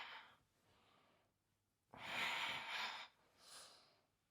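Exercise breathing, a few audible breaths close by: two soft exhales, then a long, strong rushing exhale and a shorter final puff, with no talking.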